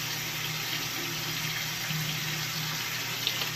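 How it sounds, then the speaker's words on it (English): Tap water running steadily into a sink while hands are washed, a continuous close hiss and splash with small shifts in the flow and no voices. "I just basically wash my hands until I've gotten every inch and corner"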